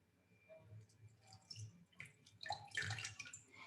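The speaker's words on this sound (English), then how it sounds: "So I'm just going to pour them through into here." Water with flowers soaking in it is poured through a strainer, giving soft splashes and dribbles that build into a louder, fuller pour toward the end, close by.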